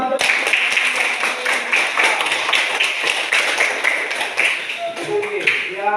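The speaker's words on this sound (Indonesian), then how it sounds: "mari kita berikan tepuk tangan untuk teman-teman" A classroom of students claps for their classmates, a dense, steady patter of many hands for several seconds with no one speaking.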